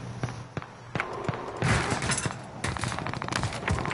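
Bursts of rapid enemy gunfire in a first-person shooter video game, sharp shots and short volleys cracking repeatedly across the moment, fairly loud and close, with no talk over them.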